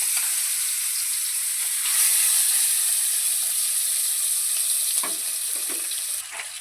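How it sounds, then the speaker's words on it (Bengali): Bata fish pieces fry in hot oil in a home kitchen, a steady, loud sizzling hiss throughout with brief crackles and a slight drop near the end, no talking. "বাকি মাছগুলো ভেজে নেবো একইভাবেই।"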